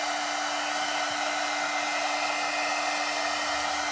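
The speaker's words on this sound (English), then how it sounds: "If you let your heat gun stay still in one place too long, you are going to get a little bit of melting." A heat gun blowing hot air over decoupage lollipop crafts, a steady, loud, unbroken whoosh with a constant whine, with no voices.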